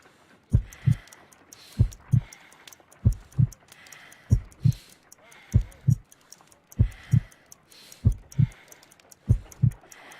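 A weak, slow heartbeat of about 50 beats per minute in Sherlock Holmes: Crimes & Punishments thumps in clear lub-dub pairs, eight evenly spaced beats standing out against quiet background.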